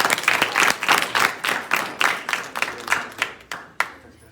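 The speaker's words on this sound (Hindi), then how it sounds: "ताली हो इनके लिए।" Audience applause at an award ceremony, a steady crowd clapping with rhythmic bursts that swell and fade over several seconds, fairly close and loud, with no talk over it.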